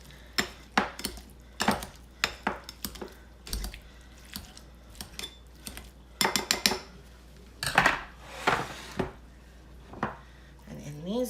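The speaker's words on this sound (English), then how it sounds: "take that pastry cutter. I'm gonna chop them up." Pastry cutter chopping cooked cauliflower pieces in a bowl for a cauliflower salad, a series of sharp clinking metal-on-bowl strikes in irregular bursts, close and fairly quiet, with no talking.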